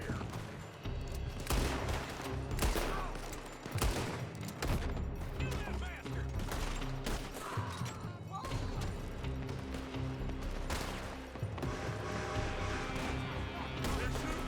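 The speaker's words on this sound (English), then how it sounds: "They're shooting from that building." Gunfire in the Red Dead Redemption video game: a dense, continuous fusillade of overlapping shots and thumps under a loud music bed, with shouting voices mixed in throughout.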